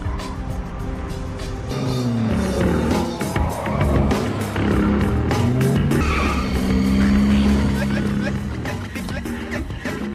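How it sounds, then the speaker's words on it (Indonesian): Several cars arrive in a film street-racing scene with screeching, skidding tires and revving engines, loud and continuous throughout, with a voice speaking over the action. "Tak lama kemudian beberapa mobil lain datang."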